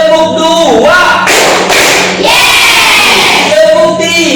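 A classroom of students claps out a short 'tepuk 2' clap pattern together, a loud burst of crowd clapping and thumps between stretches of voices.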